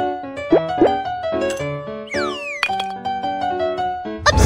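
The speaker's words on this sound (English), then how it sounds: "Pour the ice cube onto the plate." Ice cubes poured onto a plate in a BabyBus kids' science game: a few soft cartoon plops and a springy boing stand out from a busy, bright game music bed, ending in a louder burst.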